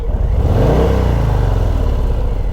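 A Harley-Davidson Softail motorcycle engine revs loud and close with the throttle stuck open, holding a steady high drone that rises in pitch and then stays sustained for a few seconds with no voices.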